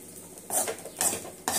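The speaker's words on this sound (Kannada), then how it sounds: "ಇನ್ನೊಂದ್ಸಲ ಚೆನ್ನಾಗಿ ಮಿಕ್ಸ್ ಮಾಡ್ಬಿಡೋಣ." A spoon scrapes and clinks through raw banana fry with coriander leaves in a pan, three distinct stirring strokes, close and fairly quiet, with no voices.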